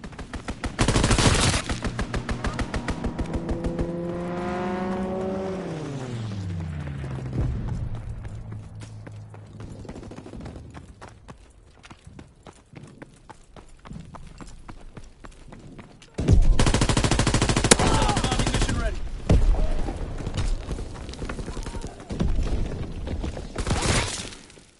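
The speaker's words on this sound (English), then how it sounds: "Strafing run inbound." Aircraft strafing run in a PS4 shooter, with rapid bursts of gunfire and a rising then falling engine-like tone, followed by a loud sustained barrage of shots near the end.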